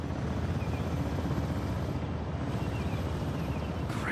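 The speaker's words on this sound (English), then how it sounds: "Chopper's airborne." A helicopter takes off in the video game Uncharted: The Lost Legacy, its rotor roar a steady, broad rumble that stays constant throughout without any voices.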